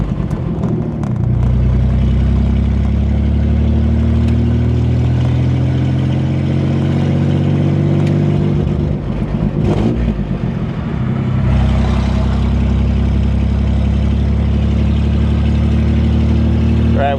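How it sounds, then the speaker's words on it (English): A Chevrolet Corvair on its first drive in years revs loudly as the clutch goes in between gear shifts, a steady low engine drone rising and dipping over about seventeen seconds with a brief break near the middle, alone without talk. "I'm pushing the clutch in and then I'm giving it a little rev to make sure that it's broken loose before I shift into the next gear"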